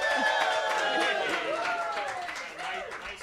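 A room full of people at a live showcase in a barn venue cheers, whoops and claps together, a loud, sustained burst of mixed voices and scattered applause that fills the room for a few seconds.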